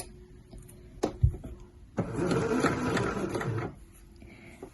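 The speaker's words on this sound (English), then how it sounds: "pop that under my sewing machine foot" Sewing machine stitching a seam in striped jersey knit fabric, a short close burst of rapid mechanical whirring after a couple of soft handling clicks, then quiet.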